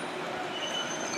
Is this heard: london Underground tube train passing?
yes